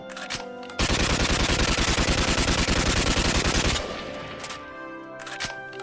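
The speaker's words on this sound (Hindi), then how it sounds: "चलो सब हवाई फायरिंग करो।" Soldiers fire guns into the air as a salute to fallen comrades: a loud, rapid volley of automatic gunfire erupts and crackles steadily for about three seconds, then cuts off, leaving quieter background noise.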